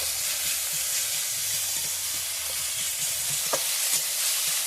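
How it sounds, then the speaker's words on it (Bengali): Ginger paste, garlic paste and chopped tomato fry in a pan, giving a loud, steady sizzle and hiss with the occasional soft scrape of stirring. "আদা রসুনটাকে ভালো করে ভেজে নেব"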